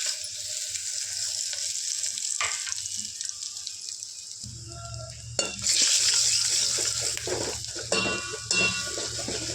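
Mustard seeds, pepper powder, cumin, asafoetida, turmeric, curry leaves and dried red chillies frying in hot oil, giving a close sizzle and crackle that swells louder partway through, with stirring clatter and no voices.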